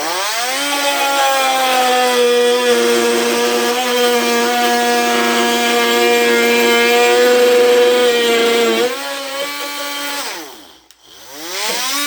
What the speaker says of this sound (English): Speed 6, the brush oscillating tool.